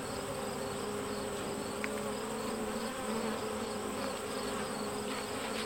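Honey bees hum around an opened hive in a steady, dense drone that holds close and even throughout, with no voices over it.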